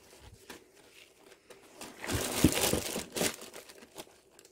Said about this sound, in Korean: 이제 김치통에다가 비닐을 깔고